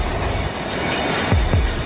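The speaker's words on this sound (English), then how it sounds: "307 tons of runaway train smash into the commuter train on platform two" A runaway train rumbles along the rails in Paris, a loud, steady roar near at hand with a couple of heavy wheel clacks toward the end and no voices over it.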